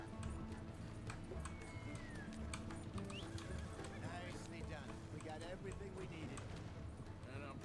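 Horses in the video game Red Dead Redemption 2 clop along steadily, with a whinny rising out of the hoofbeats amid a busy game soundscape. People talk over it.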